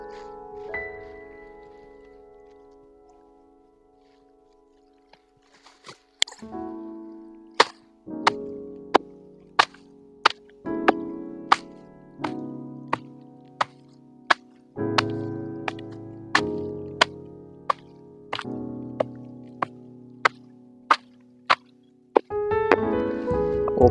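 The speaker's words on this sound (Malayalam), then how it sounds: "ഒന്ന് പതുക്കെ ചതച്ചിട്ട് വേണം ഇടാനായിട്ട്." Oil palm fruits being crushed as fish trap bait, heard as a series of sharp, regular pounding knocks, about a dozen evenly spaced strikes, close and fairly loud, with no talk over them.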